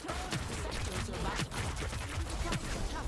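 Gunfire in the sci-fi battle royale game Hyperscape: a few sharp shots crack through dense, busy game noise, with speech mixed in around them.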